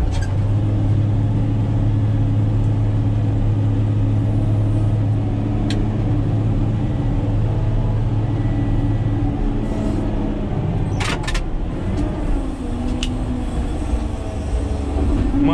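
Caterpillar 120K motor grader engine running steadily up close while reopening a hillside dirt road, a constant low rumble with a few brief clanks and a short shift in tone near the end.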